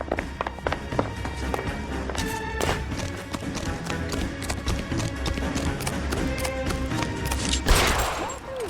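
Rapid gunfire crackles through a shootout in the L.A. Noire video game, a dense run of sharp, loud shots with thuds and movement mixed in and a final heavy blast near the end.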